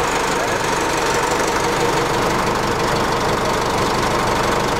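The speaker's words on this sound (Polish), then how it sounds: "Mamy komunikat uruchom silnik, zapal ciągnik." A tractor engine runs with a steady, loud knocking diesel rumble during a battery starting test, even and continuous at close range throughout.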